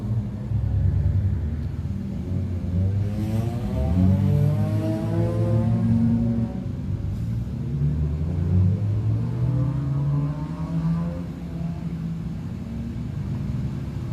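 Race cars circle a speedway oval under a caution period, engines droning and rumbling steadily with pitch rising and falling as they pass, loud and continuous with no talk.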